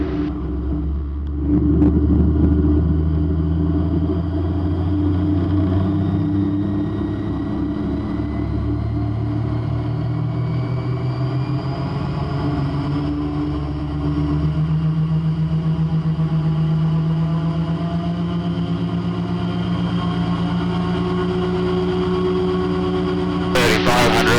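The engine of the Raptor prototype aircraft idling high after warm-up, a continuous droning hum with shifting tones, heard beneath a person talking throughout.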